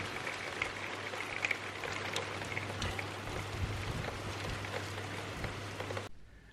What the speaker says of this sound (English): it's such a rainy day